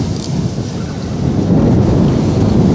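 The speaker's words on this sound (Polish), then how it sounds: "Strasznie ten wiatr dzisiaj wieje." Strong wind blows hard across a microphone outdoors on a fishing trip, a loud, continuous low roar with gusty buffeting that swells louder in the second half, with no voices.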